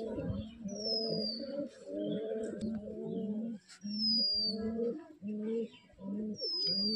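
Giribaz pigeons coo in repeated low, throaty phrases, close and steady across the clip, with a few thin high chirps from other birds now and then.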